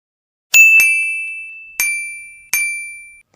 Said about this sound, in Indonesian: Haduh, berisik banget. Notif dari siapa sih nih?